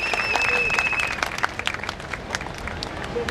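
A crowd applauds together at a community gathering honouring a host family for a walking pilgrimage, steady dense clapping mixed with crowd noise and voices, with a whistle-like tone early on.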